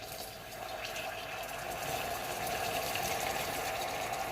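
Steady watery bubbling and fizzing of boiling water in a hot pan while making steamed pudding, a continuous close popping hiss that slowly grows a little louder, with no one talking.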